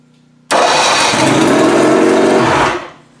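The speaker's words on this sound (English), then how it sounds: "We have a running motor." A Mercury 1250 inline-six outboard motor, the "Tower of Power", fires suddenly from quiet and runs with a loud, steady buzzing drone for about two seconds, then winds down and shuts off.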